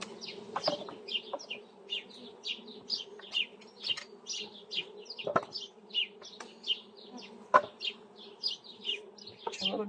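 A honeybee colony hums steadily at the hive, with a soft continuous drone and many short rising buzzes of individual bees passing close, plus a few sharp knocks against the hive.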